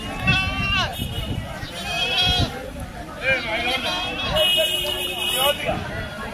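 Goats and sheep bleat repeatedly at a busy Sunday livestock market at Chilpur Gutta, with several wavering calls near and loud over a steady crowd murmur and nearby voices talking.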